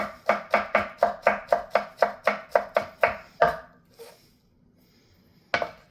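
Garlic is chopped on a cutting board with about fourteen quick, evenly spaced knife strikes, close and crisp, followed by a pause and one final chop, with no talking.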